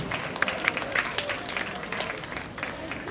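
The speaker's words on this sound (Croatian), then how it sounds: "Eto, još jedan aplauz za Dojmi, ali?" Audience applauding at a hairstyle show event held outside a café in Kotor, a steady wash of clapping from a crowd, moderately loud and sustained throughout.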